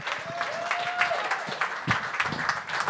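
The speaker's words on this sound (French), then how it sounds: "On l'applaudit jusqu'à temps qu'il prenne le micro." An audience at a comedy show applauds comedian Max Richard with continuous, moderately loud clapping. A faint voice rises briefly underneath.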